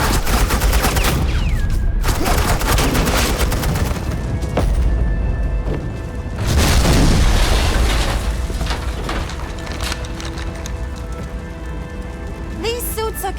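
Suppressing gunfire in the Batman Telltale game, a heavy, sustained barrage of shots and booms with rattling, rain-like debris, loud throughout and swelling midway, with a voice speaking over parts of it.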